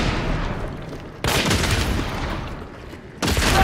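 Bomb lance fired in a first-person video game, two loud close blasts with a sharp onset each and lingering rumbling decay, separated by about two seconds.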